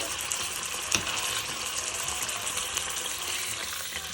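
Veal frying in a pot over moderate heat while being basted, giving a steady close sizzle throughout with a brief louder spatter near the start.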